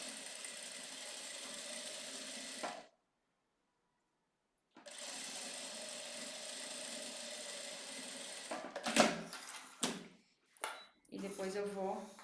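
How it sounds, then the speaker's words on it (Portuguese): A sewing machine stitches along the edge of a fabric bag or makeup case in two steady, whirring runs separated by a short silence, followed by a few brief, irregular handling sounds near the end. "Vou costurar essa partezinha aqui no final já"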